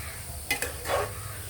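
A spoon stirs a Telugu eggplant and Malabar spinach curry with tomatoes in a pan, making a few quick scraping strokes over a soft background sizzle, close and without talk.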